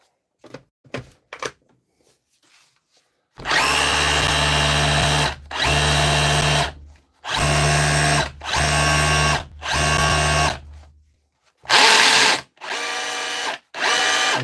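Repaired DeWalt or Makita cordless hammer drill run in repeated loud bursts of a few seconds each, with short pauses between, after some faint clicks and handling at the start.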